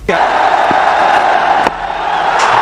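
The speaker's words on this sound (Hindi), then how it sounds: "पूरा स्टेडियम, पूरा ड्रेसिंग रूम खड़े होकर तालियों से उनका स्वागत करने लगा।" A roaring stadium crowd cheers and applauds Sachin Tendulkar's double century in cricket, a loud, dense, continuous wall of noise with a few sharp peaks.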